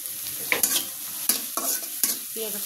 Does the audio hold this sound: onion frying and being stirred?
yes